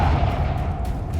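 Confringo blasting spell cast in the video game Hogwarts Legacy, a loud, dense burst of booming noise that stays full and steady for its brief second with no pause.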